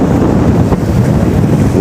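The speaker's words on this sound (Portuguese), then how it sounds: "ouve esse barulho do mar" Steady sea wash and wind on the shore, a continuous broadband roar with gusty buffeting against the microphone, fairly loud and unbroken, with no talk.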